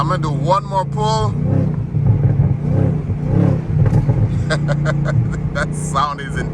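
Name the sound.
Camaro ZL1 engine revving during a hard acceleration pull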